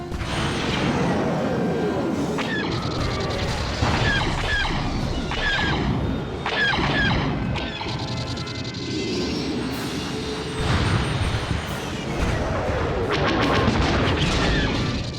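Starfighter blasters firing in a Star Wars space battle, with repeated sharp laser zaps and booms over a thick roar of engines and mechanical rumble, loud and continuous.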